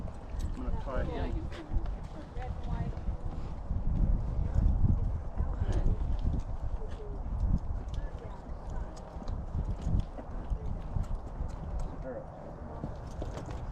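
Horse hooves clip-clopping on desert ground during wild horse breaking, a steady, uneven run of muffled thuds under wind and rumble, with people talking over it.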